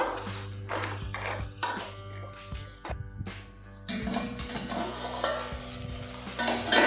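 Masala for crab sambar frying in oil in a pan, with a steady close sizzle and repeated stirring scrapes and clinks running through, alone without talk.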